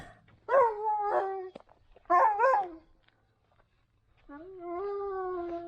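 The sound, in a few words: dog barking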